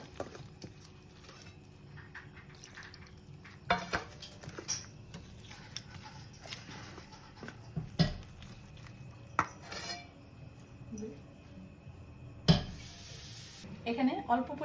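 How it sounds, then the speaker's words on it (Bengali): Batter of mixed ingredients loosened with small splashes of water for an evening snack, stirred in a bowl with scraping, tapping utensil clinks and occasional sharper knocks against the bowl, close and fairly quiet. "এবার আমি ব্যাটারটাকে ভালো করে একটু মিশিয়ে নিচ্ছি।"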